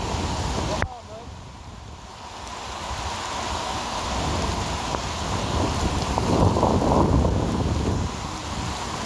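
Heavy thunder rolls through a rainstorm during an electric unicycle ride, opening with a sharp crack and settling into a deep, continuous rumble under the steady hiss of rain.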